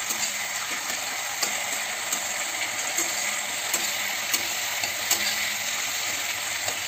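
Oil sizzling in a pan before onions go in for leftover-rice fried rice, a dense, even hiss with a few sharp clicks of a spatula, close and steady with no voices.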